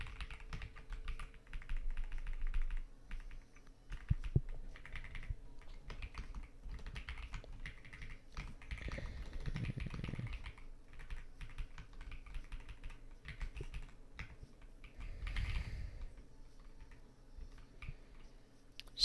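Typing on a computer keyboard while coding, quiet irregular bursts of soft key clicks and taps spread across the whole stretch, close but faint, with no talking.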